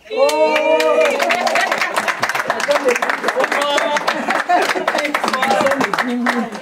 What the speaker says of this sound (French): je vous demande de m'applaudir encore une fois